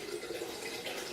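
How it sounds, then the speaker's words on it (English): Pure water steadily pouring and splashing into a 30-litre plastic brewing vessel, a continuous close rushing fill with no talk. "we know this is pure water going in here"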